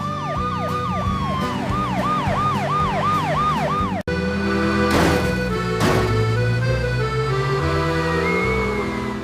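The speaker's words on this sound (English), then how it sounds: "The police cars tried to follow us." Police sirens wail loudly and close, one cycling rapidly up and down, then sweeping tones and a long rising-falling wail over rumbling traffic.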